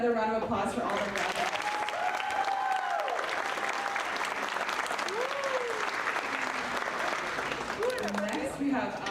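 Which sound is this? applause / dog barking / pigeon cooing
applause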